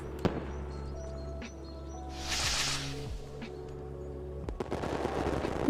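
Fireworks go off in a visual novel game: a rushing burst of hiss, then sharp crackling bangs over a steady low background hum.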